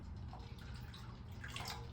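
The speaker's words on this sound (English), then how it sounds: "I'll go in with water. So I need to put in water here" Water poured into ground beans while preparing koki beans, a steady low splashing trickle that runs throughout, close and fairly quiet, with no talking.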